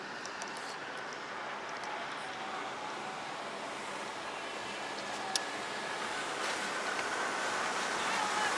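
Steady ocean surf washing in on a windy beach during a fishing weekend, a continuous broadband roar with wind buffeting the microphone, moderately loud and unbroken throughout.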